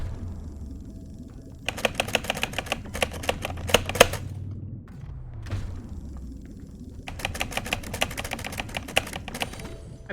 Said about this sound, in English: I'm trying to learn how to be a little quieter on my keyboard.